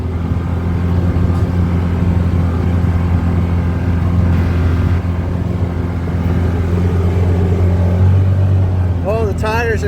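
A Can-Am Defender HD9 engine labors uphill at high RPM while towing on a loose dirt road, giving a loud, continuous drone throughout with a voice briefly talking near the end.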